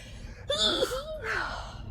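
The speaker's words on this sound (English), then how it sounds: "Oh, I gotta sneeze." A close, fairly quiet sneeze: a sharp rising inhale, a quick burst, then a breathy exhale trailing off.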